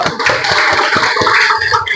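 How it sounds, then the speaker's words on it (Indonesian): A classroom full of students clapping their hands together in applause, dense and bright, steady for about two seconds before tapering off. "tepuk tangan dulu"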